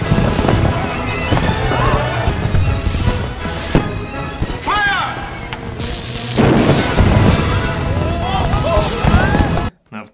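Cartoon fireworks go off in a chaotic burst of crashes, booms and whistling streaks, loud and busy throughout, with brief cartoon voices mixed in before the sound cuts out abruptly.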